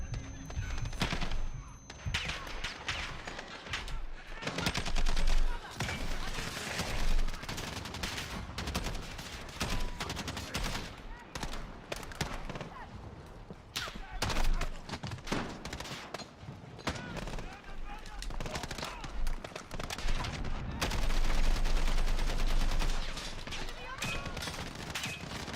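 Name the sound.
gunfire in Call of Duty Modern Warfare 2019, a video game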